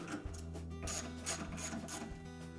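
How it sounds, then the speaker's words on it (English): Socket and ratchet loosening the 5/16 hinge screws on a Whirlpool refrigerator door, a steady run of close, rapid mechanical clicking with a few louder ticks, no talk. "you may need a wrench or a socket and ratchet to loosen them"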